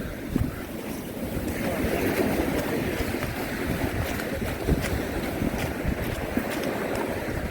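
Continuous rushing wind and churning sea waves surround a moving fishing boat, loud and steady throughout, with no speech.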